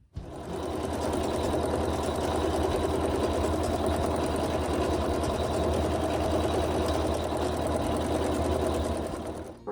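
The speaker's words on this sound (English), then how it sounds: "we're going to just put this back on the machine and it'll sew the satin stitches" An embroidery sewing machine stitches satin stitches around an appliqué quilt block, its needle running in a fast, steady mechanical whir close by from start to finish.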